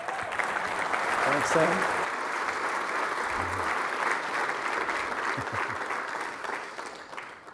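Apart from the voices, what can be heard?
audience applause at a sales kick-off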